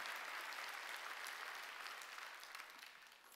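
A church congregation at a Sunday worship service claps together in a short burst of quiet, distant applause that tapers off within a few seconds.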